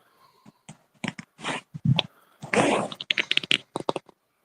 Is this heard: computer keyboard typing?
yes